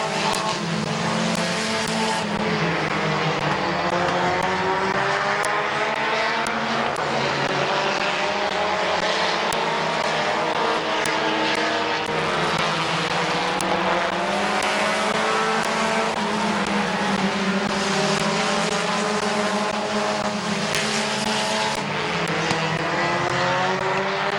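Race cars lapping Midvale Speedway, engines roaring loud and continuous as the field passes close by, with rising and falling drones from several cars at once.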